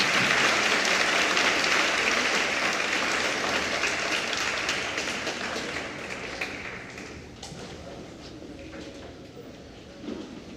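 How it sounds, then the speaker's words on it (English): Applause for musicians at a school board meeting, a broad wash of clapping that starts full and slowly fades over ten seconds, leaving a few scattered claps and room noise at the end. "Let's give another round of applause for all of our musicians"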